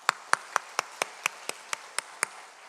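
A single person's hands clap in a church sanctuary, about ten sharp, evenly spaced claps in a steady rhythm, close and clear, with no talking.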